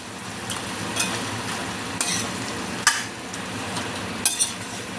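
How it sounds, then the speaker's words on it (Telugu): Tomatoes tip into a hot pan and get stirred, a low steady sizzle under a few sharp scrapes and knocks of a spoon against the pan, close by with no talking. "ఇప్పుడు టమాటాని అయితే వేసుకుంటున్నానండి కలుపుకోవాలి"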